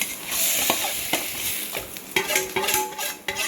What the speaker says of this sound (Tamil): இந்த மசாலா வந்து நம்ம லைட்டாக வதக்கி போட்டுடலாம்.